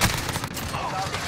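Rapid automatic fire from a Kilo 141 rifle in Modern Warfare, a dense burst of gunshots in quick succession lasting just over a second, at moderate loudness.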